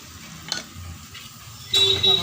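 Bitter gourd frying in a pan with homemade masala is stirred, giving brief scraping stirs and a soft sizzle that grows louder near the end, close by.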